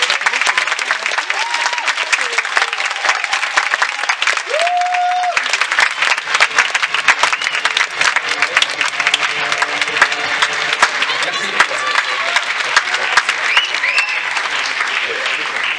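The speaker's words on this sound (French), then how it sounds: "On applaudissez très fort François Descraques." A cinema audience at a film festival screening claps loudly and continuously, a thick sustained roar of many hands with crisp individual claps, while a brief tone and some voices cut through beneath.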